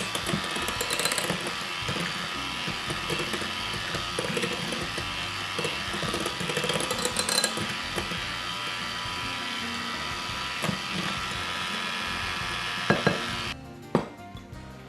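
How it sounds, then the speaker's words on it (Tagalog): Beaten eggs are whisked in a bowl for an ube macapuno pie filling, making a continuous, fast buzzing whir up close that stops abruptly near the end with a couple of knocks. "Patuloy na pagbati ang gawin hanggang mawala ang mga namumuong sangkap at kuminis."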